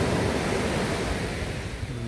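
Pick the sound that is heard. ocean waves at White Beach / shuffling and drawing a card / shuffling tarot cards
ocean waves at White Beach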